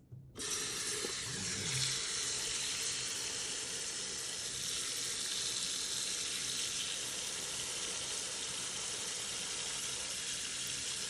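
Water gushes steadily into a large pot being filled for homemade bone broth, a loud continuous rushing splash that starts abruptly and holds for about ten seconds without any talking.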